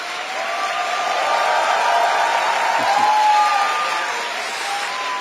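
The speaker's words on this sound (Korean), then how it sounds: "여러분, 우리 대통령님 나오실 때 큰 박수로 환영해 주시기 바랍니다" Audience applause at a public-servant training lecture as the South Korean president takes the stage, a dense wash of clapping from a large indoor crowd with faint cheering, swelling and then easing off.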